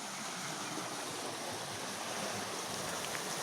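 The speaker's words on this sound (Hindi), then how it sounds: "साइड पे इसके पानी चल रहा है।" Stream of water running beside the entrance of a resort hotel in Kachura, a continuous broad rushing hiss, close and steady throughout, with no voices over it.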